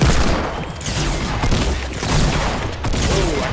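A Gold Scar assault rifle in Fortnite Battle Royale fires in rapid, loud bursts. The shots come in several rolling volleys, close and punchy, with only short gaps between them.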